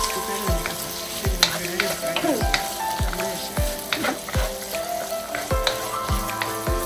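Carrots, green beans and onions fry in a pot for Ghanaian fried rice, a continuous loud sizzle punctuated by regular thuds and scrapes of stirring, close up with no speech.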